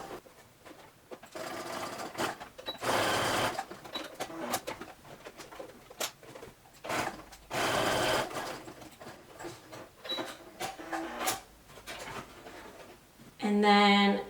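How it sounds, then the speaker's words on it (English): Home sewing machine running a zigzag stitch over the edges of skirt fabric, heard in several separate bursts of rapid mechanical whirring, some a second or more long, with quieter handling sounds in between. "I'm using a zigzag stitch on my sewing machine to go over"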